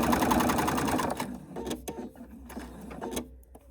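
A domestic sewing machine stitches fabric at a steady fast rhythm, loud at first, then stops and restarts in short uneven bursts.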